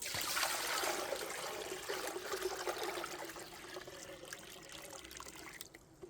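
Water pouring into a dish for a yellowjacket trap, a steady trickling splash that fades toward the end, faint and close.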